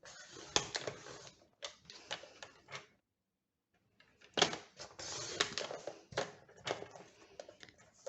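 Paper is cut into a strip 6.9 by 13.8 cm for a pop-up card, with crisp snips and ticking blade clicks in short bursts, then a pause of about a second before another run of cuts. It is close and quiet, and no one speaks.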